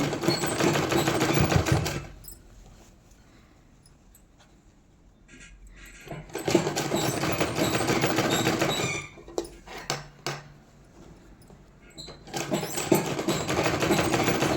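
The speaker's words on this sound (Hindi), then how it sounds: "तो मैं यहाँ पे सिलाई लगा रही हूँ" Sewing machine stitching a boys' night suit in bursts: a close, busy mechanical whirring for about two seconds, a quiet pause with faint handling noises, then further runs of stitching separated by short stops.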